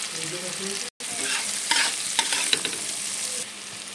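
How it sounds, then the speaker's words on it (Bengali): Onions lightly frying in a pan for a Bengali mutton curry, a continuous close sizzle with a quick break and sharp scrapes of a spoon stirring through, no voices. "পেঁয়াজগুলো আমি হালকা করে ভেজে নেব"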